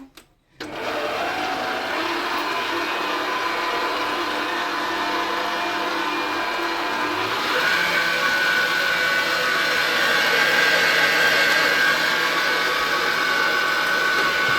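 Dough for crispy yeast-free poğaça, made with flour, baking powder, cheese and vinegar, churns in a kneading machine, giving a steady whirring motor drone that runs throughout and grows slightly louder and higher-pitched partway through.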